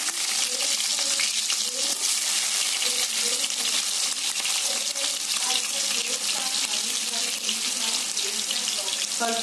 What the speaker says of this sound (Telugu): ఆయిల్ వేడయ్యాక మనం కట్ చేసి పెట్టుకున్న ఉల్లిపాయ ముక్కలు వేసుకుందామండి